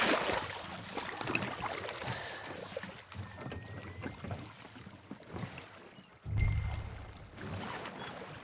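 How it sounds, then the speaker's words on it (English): Rowing a boat on a lake in Red Dead Redemption 2: soft splashing oar strokes and water movement drift at close range, fading to near quiet before a heavier surge of water near the end. "I'll show you where we're rowing to."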